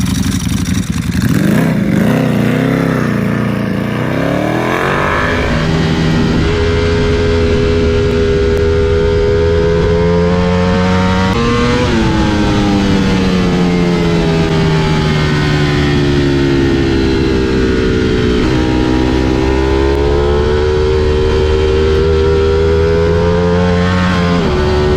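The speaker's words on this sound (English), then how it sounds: "Let's take a listen to what par excellence in motorcycling sounds like." High-end Italian superbike engine revving hard and close, climbing and falling through repeated throttle sweeps with a loud, continuous mechanical roar and no voices.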